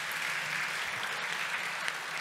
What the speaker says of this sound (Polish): duże brawa dla pana Mateusza